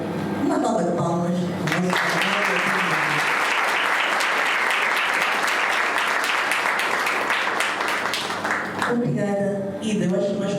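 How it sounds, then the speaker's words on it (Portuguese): Loud, dense audience applause at a business breakfast gathering in Mozambique, sustained evenly for most of the clip, with a voice talking briefly at the start and again at the end. "Uma salva de palmas."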